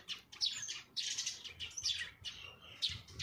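Small birds chirp in short, bright bursts, several calls repeating every second or so, fairly close and clear against a quiet background.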